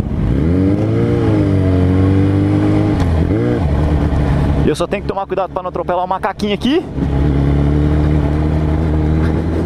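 A Suzuki Bandit 650cc motorcycle engine runs loud and close, its pitch climbing and dipping through revs, then settling into a steady idle; someone talks over it partway through.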